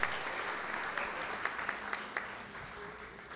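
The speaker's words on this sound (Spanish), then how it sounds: "El aplauso para ellos." An audience at a Miraflores prize draw applauds the winners, a brisk round of clapping with several sharp individual claps standing out, fading slightly toward the end.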